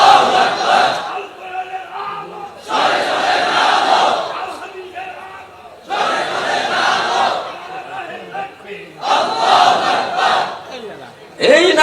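A crowd chants the takbir, Allahu Akbar, in loud, full-throated bursts, four long waves of massed voices with brief lulls between them, close and forceful.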